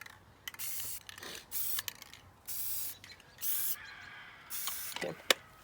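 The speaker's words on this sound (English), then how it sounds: "everybody do one more spray after Aubrey goes." Several short hissing sprays from a spray bottle, bursts of about half a second repeated with gaps, with faint quiet background between them.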